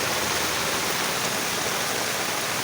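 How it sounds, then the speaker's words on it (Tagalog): Heavy rain pours down alongside rushing floodwater, forming a loud, dense, unbroken roar of water with no voices. "Oh, kusog yung ulan ba?"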